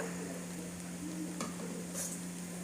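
Mustard seeds, cumin, dried chillies and curry leaves frying in hot oil for an egg pickle: a quiet, steady sizzle with light stirring, and an occasional soft clink of a utensil against the pan.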